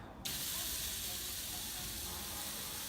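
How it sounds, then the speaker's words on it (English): Meat hits a dry, hot pan for searing and breaks into a sudden, continuous sizzle that holds steady and even for a few seconds, close by with no talking. "I am going to put my meat for searing"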